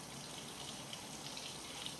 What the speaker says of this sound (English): washes it thoroughly with water